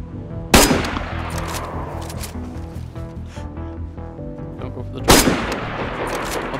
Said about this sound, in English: There's another guy shooting at him